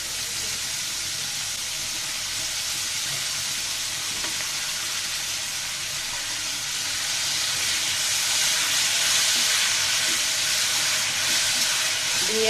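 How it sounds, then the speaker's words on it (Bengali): Chopped potatoes frying in oil in a pan, a continuous close hissing sizzle that swells slightly louder midway, with faint stirring scrapes and no speech. "দেখুন বন্ধুরা, আলুটাকে আমি ভেজে নিচ্ছি, 5 মিনিটের বেশি ভাজা করতেছি।"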